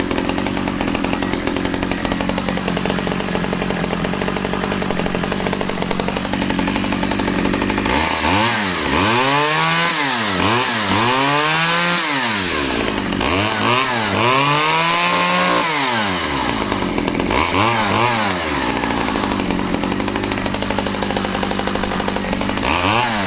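Used chainsaw starting up and running, with an engine that rises and falls through repeated revving bursts over a steady broadband roar, loud and close with no talking.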